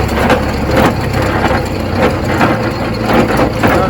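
A tractor pulling a rotavator through full, heavy soil, its engine rumbling loudly and close as the accelerator is pressed, with rhythmic chugging surges and crunching bursts throughout.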